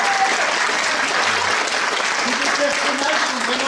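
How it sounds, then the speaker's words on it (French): A theatre audience applauds loudly and steadily throughout, a dense, continuous clatter of many hands with no pauses. "on peut les applaudir très fort"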